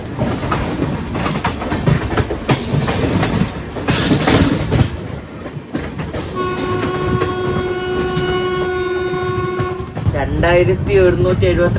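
Inside an AC two-tier coach of the Jhelum Express, the train rolls with a loud rumbling rush and rhythmic clickety-clack, and a sustained horn blast sounds partway through before the running noise returns.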